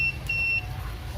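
A multimeter's continuity buzzer beeps while testing a clothes iron's power cable: one steady, fairly loud electronic tone lasting about half a second over low background hum.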